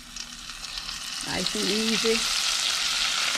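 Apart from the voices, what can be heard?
soft shell crab sizzling in frying oil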